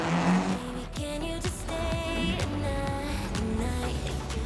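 A drift car on a competition run at a VicDrift championship round, engine revving and rising through gears with tires squealing, loud and continuous throughout.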